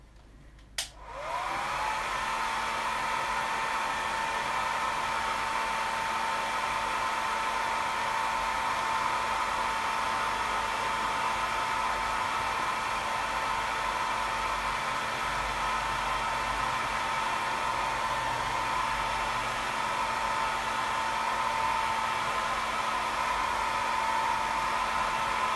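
A hair dryer blows steadily to dry craft paint, switched on with a click and then running as a loud, even whoosh with a constant motor hum for the whole stretch, no talk over it.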